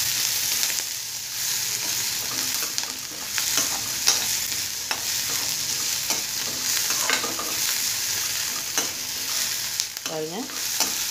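Onions and green chillies sautéing in oil for avarakkai poriyal, a constant close sizzle with repeated spatula scrapes and stirs across the pan, ending in a quick rattling scrape.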